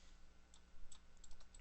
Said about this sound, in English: if you tap 3 on your keyboard